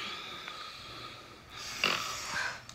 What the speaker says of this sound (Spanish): estoy grabando este video para demostrarte que eres tú la que está roncando